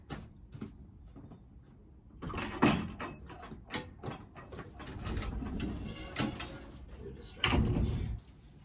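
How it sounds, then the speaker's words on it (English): An indoor door being closed in a home near garden pots: a string of soft knocks and clatters, then a louder bump, with rustling handling noise and some faint talk. "I think I'm going to close this door"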